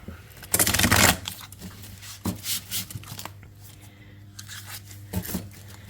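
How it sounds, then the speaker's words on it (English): Tarot cards with gold foil edges being shuffled up close, a loud riffling burst followed by softer intermittent flicks and slides of the deck. "let's give it a good shuffle"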